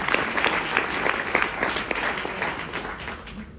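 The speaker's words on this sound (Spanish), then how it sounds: "Denle un aplauso" A church congregation bursts into sustained applause, dense overlapping hand claps filling the space at steady strength from start to finish, with no voices standing out above the clapping.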